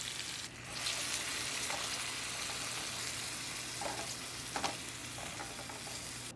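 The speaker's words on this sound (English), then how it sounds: "We're gonna go ahead and add in the steak and all the liquid that came out during the marinating process." Marinated steak pieces and their marinade liquid sizzle steadily in a hot pan for beef and broccoli, a dense continuous hiss with a few soft clinks of a utensil scraping through.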